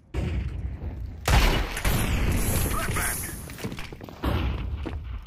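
Gunfire in Counter-Strike 2 comes as a loud burst of thudding shots, then a sustained rattle and a second burst near the end, close and dense, with no clear talk over it.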